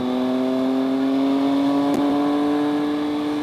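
A 2012 Triumph Speed Triple motorcycle engine holds a steady, loud, close drone on a test ride, with a brief sharp blip partway through before settling back to a constant hum.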